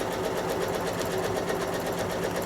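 A quilting sewing machine stitches a cursive rail fence design, its needle running in a fast, even mechanical chatter that stays steady and close throughout, with no talking.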